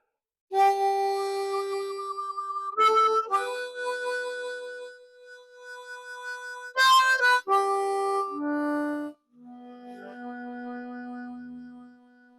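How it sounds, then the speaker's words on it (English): A harmonica plays a series of sustained reedy notes, with a cupped hand swinging open and shut to make the tone waver and pulse, separated by brief pauses; close and clear with no talking. "when you hold a harmonica and you cup your hand in behind it and you swing it open as if your hand's on a hinge"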